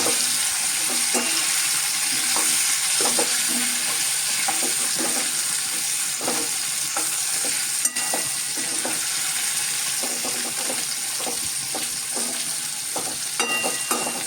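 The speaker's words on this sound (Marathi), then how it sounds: "या शेंगा मी तेलावरती परतून घेतोय" Continuous sizzling of drumsticks sautéing in oil, with repeated rhythmic scraping strokes of a spatula stirring the pan, up close.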